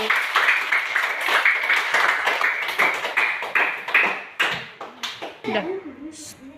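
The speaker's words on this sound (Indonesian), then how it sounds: "mari kita berikan aplaus buat temanmu" Classroom applause for a classmate, a group of students clapping in a steady rapid patter that thins into a few scattered claps near the end, with a voice speaking briefly at the close.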